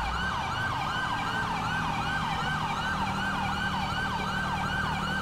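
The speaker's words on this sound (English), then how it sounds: "All these sirens are super annoying." Emergency vehicle sirens in the LSPDFR police video game mod wail in a fast, repeating rising-and-falling cycle, loud and steady throughout over a low engine rumble, with no voices.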